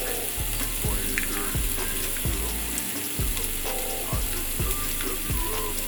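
Garlic cloves sizzle in a pan for a from-scratch chicken Alfredo, a constant hiss underneath a regular series of soft knocks and scrapes from stirring, all close up.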